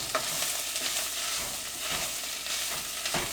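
Soyrizo and onions sizzle steadily in a hot pan, with a few sharp scrapes and knocks from stirring breaking through the dense crackle. Close and fairly loud throughout, with no talking.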